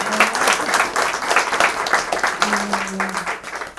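Audience applause at Sarau da Brasa, a poetry gathering in Brasilândia, São Paulo: steady, dense clapping from a small crowd filling the whole stretch, with a faint tone and murmur beneath.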